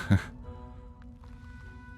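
A single short, close throat clearing from a man, heard at the very start, then a low steady background hum with no further sound.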